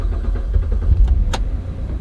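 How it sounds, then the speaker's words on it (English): Chevrolet Impala engine idling steadily with a low rumble, a brief click or whir partway through, no starter crank clearly evident. "Start and idle the engine."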